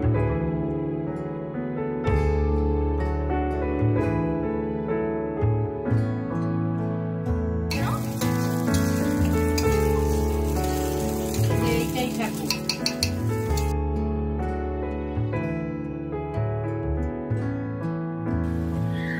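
Snacks fry on the stove in a home kitchen during puja cooking, a steady sizzle of hot oil with a louder, hissing stretch in the middle. Music plays throughout.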